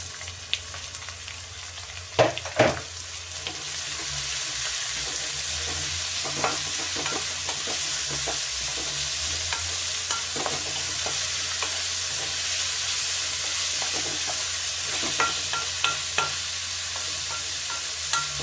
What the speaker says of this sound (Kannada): ಈರುಳ್ಳಿ ಚೆನ್ನಾಗಿ ಫ್ರೈ ಆಯಿತು.